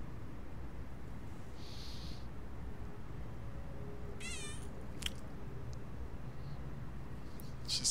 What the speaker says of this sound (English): She's the best cat that could cat.